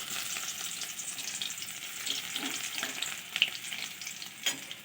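Garlic cloves, asafoetida and cardamom frying in hot oil, giving a continuous soft crackling sizzle with a few brief pops.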